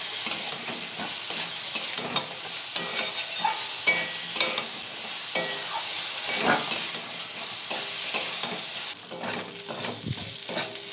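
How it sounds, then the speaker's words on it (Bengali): Fried apple snails are stirred into a papaya curry in a pan, cooked village-style: loud, steady sizzling and hissing with repeated scraping and clattering strokes of the stirring spoon, and no voices. "দিয়ে দেব ভেজে রাখা গেঁড়িগুলো, এবার ভালো করে মিশিয়ে নেব।"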